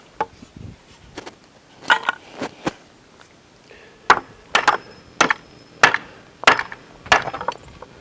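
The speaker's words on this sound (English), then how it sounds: "My initial plan is to pop both those pieces out and use them as bracing on the side." Scrap boards are pried out of a wooden pallet, giving a string of sharp, close wooden knocks and cracks that come in uneven bursts with short quiet gaps between them.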